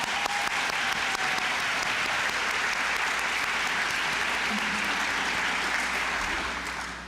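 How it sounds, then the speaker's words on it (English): Steady, dense applause from an audience fills the hall after a speech at a youth program's end-of-summer celebration, holding at an even level before easing slightly at the end. "Let's give him another round of applause."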